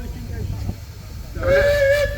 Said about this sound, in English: Can I have a whistle on, Neville?